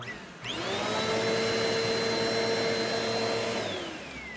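A Eureka Airspeed vacuum cleaner, just cleared of a clog, switches on, whines up to a loud steady roar, runs evenly, then starts spinning down near the end.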